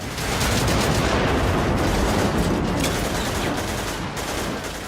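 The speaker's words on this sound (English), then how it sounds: "there's a constant ambient sound of explosions" Dense, continuous rumble of distant explosions and gunfire-like bursts from the PS3 game Haze, a steady wall of battle noise with no talking.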